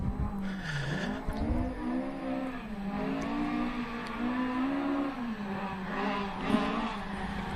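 A rally car runs hard on a special stage of the Rally of South Canterbury in New Zealand, its engine note rising and falling through gear changes as it drives past at a moderate distance, with no talk over it.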